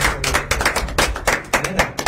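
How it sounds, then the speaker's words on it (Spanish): Scattered hand clapping from a small group in a studio broadcast, irregular bursts of claps with no talk over them. "tremendo video, un aplauso"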